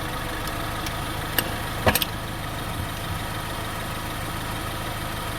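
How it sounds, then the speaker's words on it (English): A Ford Edge engine idles steadily with a constant low hum during a transmission fluid check, joined by a few brief clicks and clanks partway through as a fill plug is removed; nobody speaks. "Alright, the engine's running."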